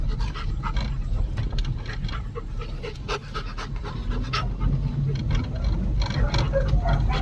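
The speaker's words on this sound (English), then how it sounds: "And now you can hear the dogs" Several dogs pant heavily and whimper at a kennel home, a steady breathy chorus close by with occasional whines and a faint low rumble of traffic beneath.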